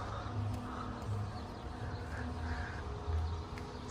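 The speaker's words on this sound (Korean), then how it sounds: "새들은 열심히 지저귀고 있고, 이 밤중에." Birds call repeatedly outside a resort in Qatar at night, a fairly faint scattering of squawks and chirps, some harsh and crow-like, over a low, steady outdoor background hum.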